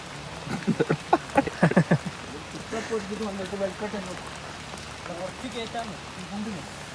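Rain patters steadily on a surface over a muddy, rain-damaged dirt road while someone talks over it, with a few louder drips near the start.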